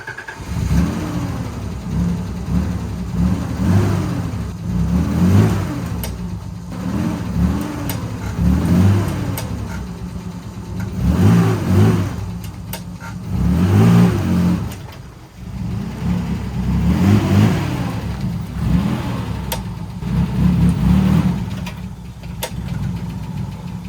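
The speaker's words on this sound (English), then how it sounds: "I think I'm gonna start her back up and try to move this forward a little bit." A Nissan 300ZX engine revving repeatedly, its low rumbling note rising and falling in a series of throttle bursts over a steady running idle, close and loud with no talking.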